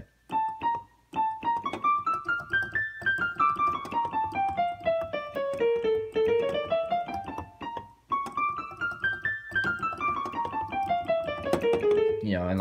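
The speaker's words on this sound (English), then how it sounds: "Phrygian dominant is what it's called. It's a mode of harmonic minor, but it sounds like this" A Phrygian dominant scale, a mode of harmonic minor, runs up and back down in a steady stream of sustained melodic notes, played twice in close, moderately loud succession with no talking over it.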